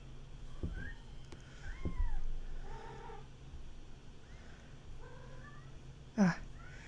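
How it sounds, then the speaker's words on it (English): Cat meowing nearby, several drawn-out mewing calls spread across a quiet indoor room, with faint background noise and a brief knock near the end. "This cat just wants to eat all day. She's just meowing all day long."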